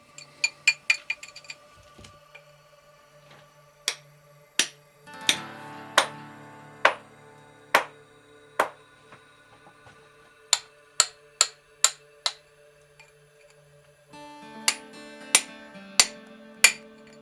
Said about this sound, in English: miners still use simple tools like a chisel and hammer to extract ore